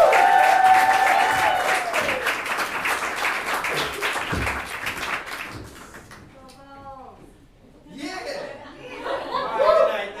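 Audience applause and chuckling for a comedian at a comedy roast, loud clapping fading out as a voice and scattered laughter take over, with a burst of crowd laughter near the end.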